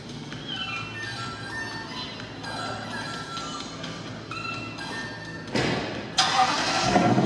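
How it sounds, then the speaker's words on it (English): A Tesla car starting up: a steady tonal whir that jumps louder and broader in two abrupt steps near the end, close by with no talking. "now let's listen to a startup of the car."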